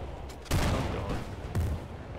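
Gunfire from the player's weapon in Battlefield Bad Company 2, two heavy, booming bursts about a second apart over a steady rumble of battle noise, with no talking.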